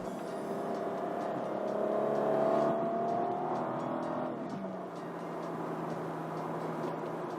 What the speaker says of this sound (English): I like the shifts that it does here with the blipping the throttle up